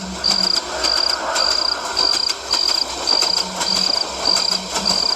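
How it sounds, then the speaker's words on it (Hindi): A train rolls past at a distance beyond a screen of trees near the track, a steady rumble with rhythmic clacking and faint high squeals repeating throughout, with no voices. "तभी दूर से ट्रेन की आवाज सुनाई दी"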